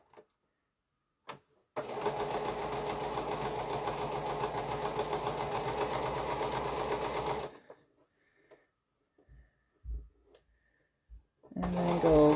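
A sewing machine stitches a curved quilting seam in one steady, loud run of about six seconds, then stops, followed by a few faint clicks and handling sounds as the presser foot is adjusted.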